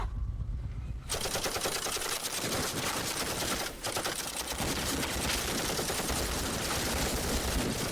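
Gunfire in a drama scene: rapid, sustained bursts of automatic fire that start abruptly after a second of quiet, break briefly once, then rattle on loudly to the end.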